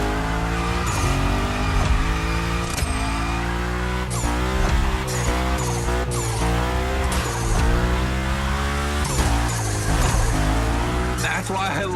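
In the video game The Crew Motorfest, a car drifts through a slide with a loud, sustained revving engine and whining tire squeal. Game music plays throughout and a voice talks over the top.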